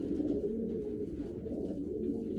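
A racing pigeon cooing softly in a loft, a low, continuous throaty murmur close by with no voices.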